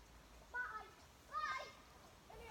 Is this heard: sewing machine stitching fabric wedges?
no